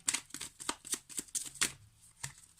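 Oracle cards being shuffled and drawn, a quick run of crisp riffling bursts close by, a dozen or so rapid flutters in a row, with no talking.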